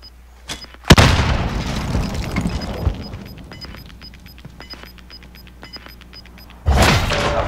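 A grenade goes off in the shooter game Modern Warfare: a loud close boom with a long rumbling decay, a thin repeating beep over it, then a second heavy blast near the end.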